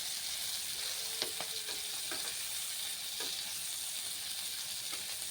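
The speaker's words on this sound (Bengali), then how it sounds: "এবার চিংড়ি মাছটা নাড়াচাড়া দিয়ে দিব" Prawns fry and sizzle steadily in a pan, with a few distinct scraping stirs of a spatula breaking through the continuous hiss; close and fairly loud, no voices.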